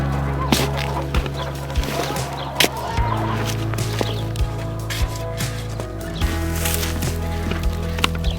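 Chickens cluck repeatedly around a farm coop during chicken chores, with short sharp calls scattered over a steady low drone and no talking.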